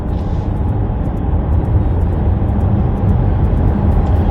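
An Ebro S800 PHEV SUV accelerates in Sport mode, a steady broadband road and engine roar heard from the cabin, rising slightly without distinct gear changes.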